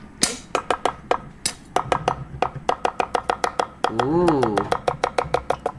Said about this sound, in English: Smooth chopping. And he's using a Chinese cleaver as well.